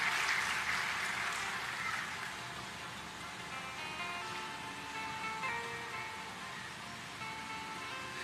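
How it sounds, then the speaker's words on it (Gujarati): A seated audience at a live Bhagwat Katha in Haridwar breaks into broad, sustained clapping that starts loud and slowly tapers off. "એને પણ એકવાર તાળીઓથી વધાવીએ"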